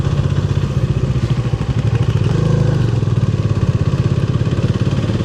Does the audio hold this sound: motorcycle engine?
yes